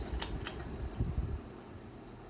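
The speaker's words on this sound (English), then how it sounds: "these go very, very fast for little 42-inch fans" Two 1984 Ritz 42-inch ceiling fans spin fast with a steady, soft whooshing hum, broken by a few faint clicks and light rattles from the fixtures, heard alone at low volume.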